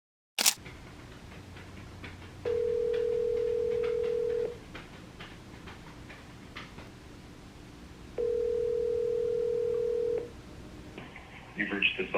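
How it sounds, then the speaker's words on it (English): An outgoing mobile phone call rings back twice, each a long steady tone lasting about two seconds with a pause between, over a faint background hiss, before a voice comes on. "It's ringing."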